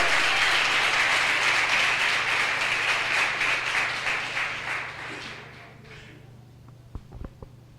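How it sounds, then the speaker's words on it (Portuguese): Church congregation applauding together, a dense, steady burst of clapping that thins and fades over several seconds, leaving a few scattered claps and faint knocks at the end. "Você pode aplaudir o nome do Senhor?"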